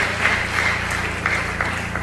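A church congregation claps steadily together at an anniversary service, a continuous dense patter of many hands throughout the short stretch.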